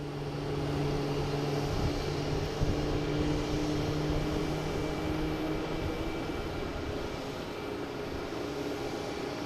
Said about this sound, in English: Heading to Lisbon. Flight 218, A321neo.